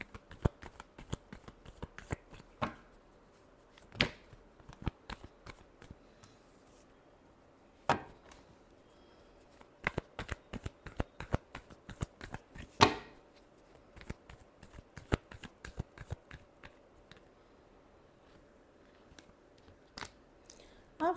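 Tarot cards are shuffled by hand in quiet, irregular bursts of crisp riffles and slaps, close and fairly faint, with short pauses between rounds.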